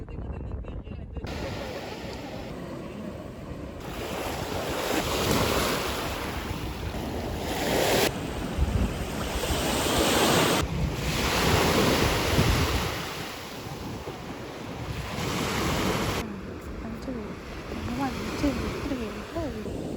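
Steady broadband rush of Mediterranean surf at the beach, continuous and fairly loud, with wind buffeting the microphone throughout.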